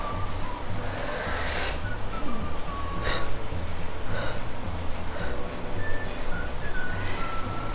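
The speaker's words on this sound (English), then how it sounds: "all you want to do is breathe in, breathe out" Slow, deliberate breaths in and out, close to the microphone, come as several soft airy rushes spaced a second or more apart over a low background hum.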